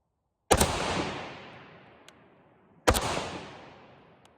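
A C308 rifle fires two CSR rounds: two sharp, loud shots about two and a half seconds apart, each followed by a long echoing decay outdoors.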